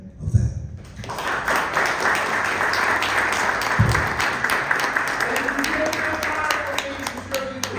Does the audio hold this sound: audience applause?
yes